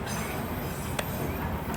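Long freight train rolling past nearby, a steady broadband rumble and rush of rail noise with a couple of brief sharp wheel squeals, continuous and fairly loud.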